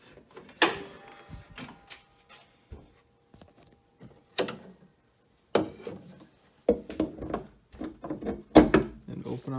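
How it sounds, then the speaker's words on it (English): A car hood being released and lifted open makes a series of close mechanical clunks, clicks and latch knocks, spaced irregularly with short quiet gaps between them. "First step is to pop the hood and open up"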